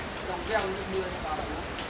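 Rain falling outdoors as a steady, even patter, moderately loud and filling the whole moment with no break.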